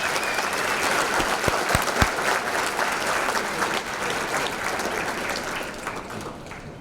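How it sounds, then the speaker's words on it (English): Sustained audience applause fills a banquet hall at a county sports hall of fame induction ceremony, steady, dense clapping from a large crowd lasting throughout and tapering slightly at the end. "let's give them a big round of applause."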